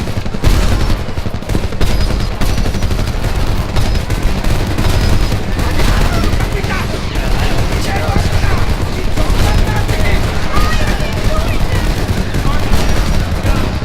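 Loud, near continuous gunfire in the Homefront video game fighting around a house, with heavy caliber bursts and machine-gun rattle hammering constantly and shouting voices buried underneath.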